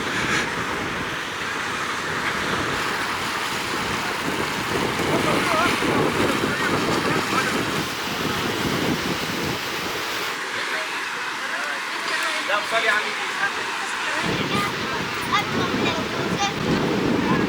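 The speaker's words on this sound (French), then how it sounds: "Waouh, il y a beaucoup de vent, je ne sais pas si vous m'entendez bien" Strong seaside wind at La Goulette in Tunis buffets the microphone continuously, with surf rolling underneath. A voice talks over the roar.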